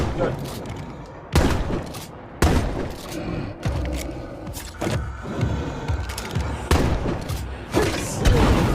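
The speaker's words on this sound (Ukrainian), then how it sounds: "Це якась стримуюча граната" Grenade blasts in the video game State of Decay 2: a string of heavy booms and sharp impacts lands one after another over a rumbling, busy background of gameplay noise.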